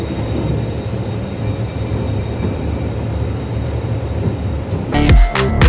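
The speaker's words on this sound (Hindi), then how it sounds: "सो गाइस सिर्फ 2 मिनट के होल्ड के बाद now we are depart from बागीमती railway station." Tinsukia Vistadome Express train pulling away from Bagmati railway station in India, a steady loud rumble of wheels and carriage noise throughout, with a sharper burst of clattering near the end.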